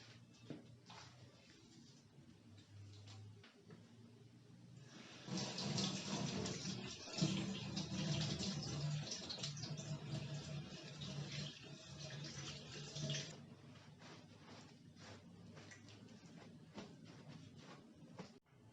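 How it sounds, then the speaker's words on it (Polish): Raw meat for a home-made cured ham rinsed under a cold running kitchen tap, a steady rush of splashing water swelling in the middle and easing off, fairly close with no talk. "Teraz umyjemy mięso pod zimno bieżąco wodą."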